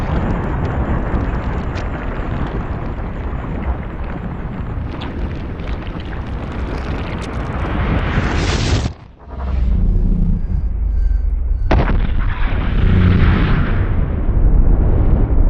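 A bullet strikes ceramic body armor in a high-speed ballistic test, setting off a loud, sustained explosive roar that cuts out briefly near the end, then surges back with renewed blasting.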